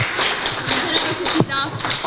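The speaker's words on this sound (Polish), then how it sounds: "Brawa dla Amelci" A crowd claps at a Christmas Eve gathering at a Franciscan children's aid centre in Głubczyce, Poland; the clapping is brief and scattered, mixed with nearby talk and room noise.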